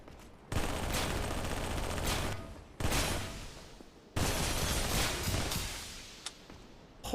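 Sustained bursts of rapid automatic fire from a Halo gun in a modded Dark Souls video game, three long loud volleys separated by brief pauses, with no talking.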